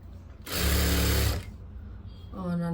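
Sewing machine stitching piping onto a blouse, a steady loud whirring run of about a second that stops abruptly, with faint speech afterward.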